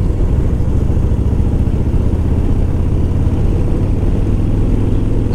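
A Harley-Davidson Softail Deluxe motorcycle engine on a road test ride, a steady, loud, low rumbling drone with even throb that holds constant throughout, no voice over it.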